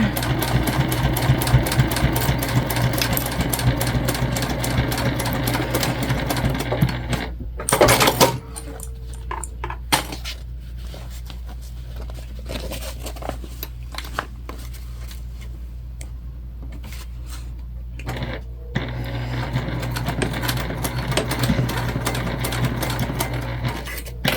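A sewing machine runs steadily while basting along the back side of a crossbody bag's lining, its fast mechanical whir continuous and close, stopping briefly in the middle before starting up again.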